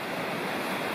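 Deep, swift creek water rushes past in a continuous broadband roar, loud and close, with no pauses or voices.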